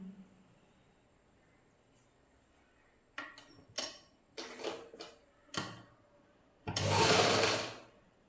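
A sewing machine stitching a half shimmy garment, running in short separate bursts with quiet gaps and handling clicks between them, then one longer, louder run near the end.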